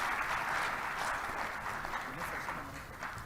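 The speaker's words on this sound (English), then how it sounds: "I would request you to give a thunderous applause before I sit down." A conference audience applauds at an inaugural session, producing a continuous wash of clapping at moderate volume that eases slightly over a few seconds, with some talking mixed in beneath.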